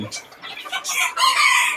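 Black-and-white tailed bantam chickens and roosters in Khon Kaen cluck at close range, and a crow rises loudly in the second half of the short burst.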